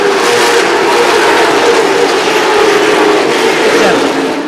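CARS Tour stock race cars bunch up in a tight pack coming off turn four. Many engines roar together in a loud, sustained drone under a commentator's voice.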